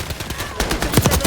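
MP40 submachine gun fire in a multiplayer video game, rapid repeated shots in quick bursts, loud and close, with a voice talking faintly underneath.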